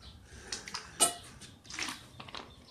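Water pours into a glass at a meeting, a close, short run of splashing and trickling with a light clink, with no talking over it.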